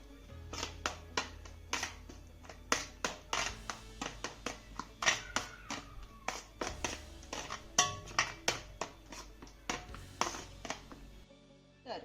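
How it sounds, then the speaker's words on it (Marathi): A spoon scrapes and taps steadily around a bowl, a rapid run of small clinks and knocks from stirring semolina into a thick banana paste. "आता हा घातलेला रवा आपल्याला ह्या पेस्टमध्ये ना चांगला मिक्स करून घ्यायचा आहे"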